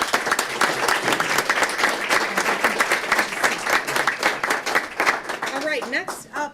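An audience at a county Board of Commissioners meeting applauds women leaders, brisk dense clapping with a few louder claps and voices rising near the end as it dies down.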